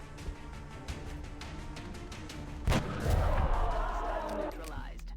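Gunfire in XCOM Enemy Within, a turn-based alien combat game, aimed at a Muton: a sharp shot bursts out midway, followed by a rumbling boom and debris, over a steady game soundtrack.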